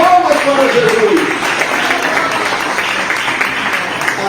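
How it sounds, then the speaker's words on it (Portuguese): A church congregation applauds together during a Brazilian Portuguese worship sermon, a dense steady wash of clapping that holds at even volume throughout, with a brief voice at the start. "Salve, dê palmas para Jesus"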